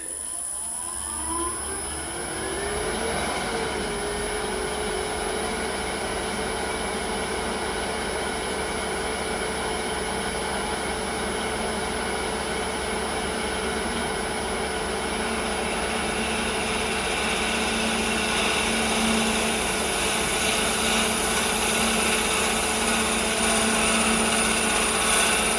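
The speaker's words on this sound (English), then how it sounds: "I'm going to reach over and turn on the lathe, index it in." A wood lathe runs steadily for the whole stretch, its motor giving a constant whine and hum while a radius jig cuts the spinning wood, with a faint rising pitch as it spins up at the start.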